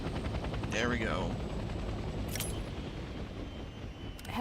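Steady rotor drone from a helicopter in Hell Let Loose Vietnam, heavy and continuous, with a couple of short whooshing sweeps passing across it.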